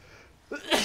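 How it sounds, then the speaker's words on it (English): A single sharp sneeze bursts out close to the mic after a brief quiet lead-in, loud and breathy. "Sneezing in the mic and shit."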